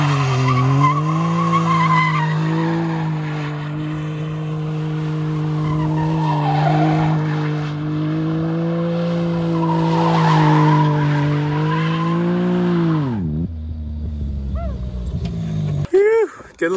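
A side-by-side 4x4 spins donuts, its engine droning loudly and steadily beneath continuous tire skidding and squeal. It then winds down abruptly, leaving a few short knocks and some voices near the end.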